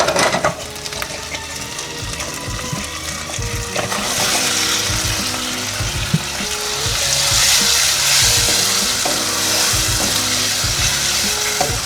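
Fresh tomatoes added to oil already cooked with tomato paste for lasagna sauce, giving a loud, steady sizzle with scraping stir strokes that swells after a few seconds and stays continuous throughout, no talking.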